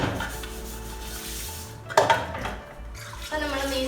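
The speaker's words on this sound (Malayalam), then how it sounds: "ഇതിനിപ്പോൾ ഞാൻ കഴുകി ക്ലീൻ ചെയ്തു ഇനി കഴുകി 2-3 വെള്ളത്തിലൊന്ന് കഴുകിയിട്ട്" Fish being washed and rubbed clean in a pot of water before cooking a spicy curry: wet scraping and swishing with a clatter of the vessel, close and moderately loud.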